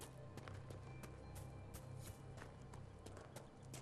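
Horse hooves gallop in the video game Dragon Age Inquisition: a steady, fast run of soft thudding clip-clops, moderately close, under constant game music and ambience.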